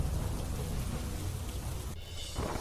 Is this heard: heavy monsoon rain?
yes